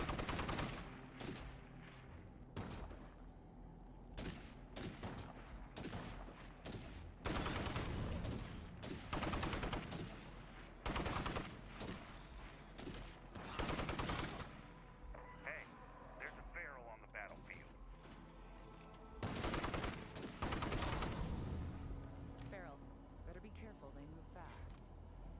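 Gunfire in State of Decay 2 as zombies are shot near a defended wall: repeated bursts of rapid shots come in irregular clusters, loud and sharp, while someone talks over much of it.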